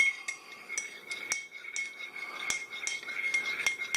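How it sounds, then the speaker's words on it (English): A metal spoon stirs butter into coffee in a cup, clinking against the sides again and again in a quick, uneven rhythm of bright chimes, close and clear with no voices. "Stir it up really good."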